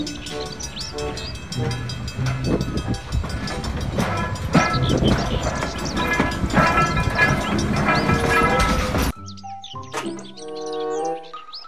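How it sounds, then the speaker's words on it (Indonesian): A toy Thomas train rolls along with a busy rattling clatter and bright whistle-like tones, followed by a brief chirpy musical jingle at the end. "Kereta Thomas."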